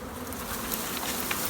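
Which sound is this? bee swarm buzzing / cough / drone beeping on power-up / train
bee swarm buzzing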